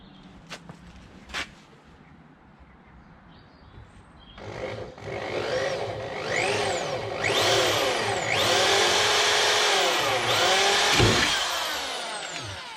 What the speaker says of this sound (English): Just going to drill a pilot hole to start with.